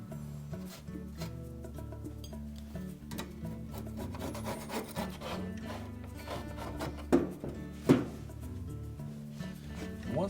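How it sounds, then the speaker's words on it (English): Scraper working old glue off the front lower basket seal area of a Frigidaire dryer, a dense run of rubbing, rasping strokes with a couple of sharper scrapes near the end. "take a little wire brush or even just a scraper to clean any of the excess glue off of there"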